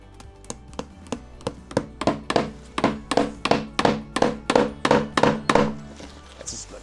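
Hammer blows drive a nail holding wire on a handmade broom: about sixteen sharp, close wooden thunks in an even rhythm that speeds up and gets louder, then stops, with no talk.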